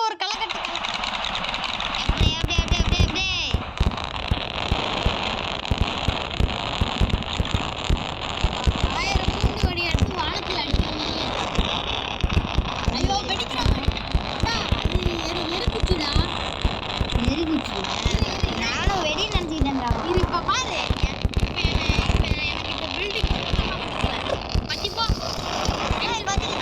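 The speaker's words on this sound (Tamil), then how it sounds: "இப்போ பாருங்க வெடிய" Firecrackers set off during Diwali celebrations, with dense crackling and popping bursts running almost continuously under loud talk and shouting from people nearby.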